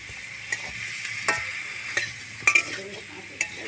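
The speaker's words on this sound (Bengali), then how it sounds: "এই দেখো ভালো করে নেড়ে নিচ্ছি, নেড়ে নিলাম" A spatula scrapes and stirs pabda fish curry in a frying pan, giving a soft steady sizzle broken by several sharp clinks and scrapes at irregular intervals.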